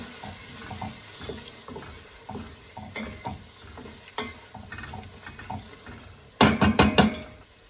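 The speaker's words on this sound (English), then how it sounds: "Now I'm going to stir that up. Watch the heat here." Homemade pepper sauce is stirred in a pot over low to medium heat, with soft repeated scraping and light bubbling, then a louder burst of clattering near the end.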